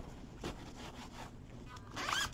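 A zipper on light yellow floral fabric, chosen in pink, is worked back and forth in several short rasping pulls, close and fairly soft, ending in a louder, brighter zip.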